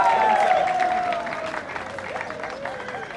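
A crowd at a UDPS political gathering applauds the secretary general's arrival with dense, sustained clapping that starts loud and then eases slightly, joined by cheering voices and whistles.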